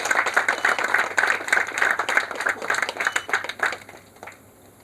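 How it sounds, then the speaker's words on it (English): A small audience claps for a great moment at a gathering in Lesotho, a few individual claps standing out in the rhythm, then thinning and fading to quiet toward the end. "So let's clap for the great moment."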